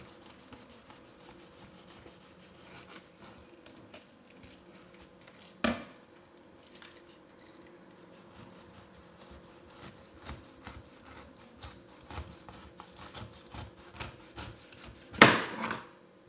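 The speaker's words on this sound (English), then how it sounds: "I am peeling the pineapple" A knife peels a pineapple in repeated soft scraping and rubbing strokes close by, with occasional louder knocks against a board, with no talking.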